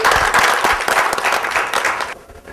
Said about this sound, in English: Let's have a round of applause to start with.